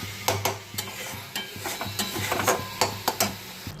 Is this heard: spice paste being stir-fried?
yes